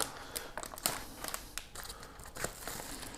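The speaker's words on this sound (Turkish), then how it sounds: "İsterseniz şimdi şu poşeti bir açalım." A plastic bag holding a metal smartwatch strap is handled and torn open up close, with irregular crinkling, rustling and sharp tearing bursts and no talk.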